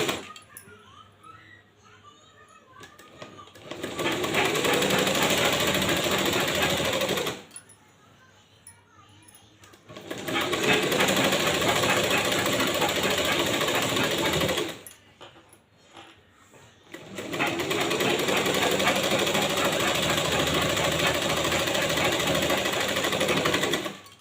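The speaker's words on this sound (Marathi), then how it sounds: "सिलाई करून घ्यायचं असं।" A sewing machine stitches a sleeve lining to a blouse sleeve in three long continuous runs, each several seconds, separated by short pauses, close and steady.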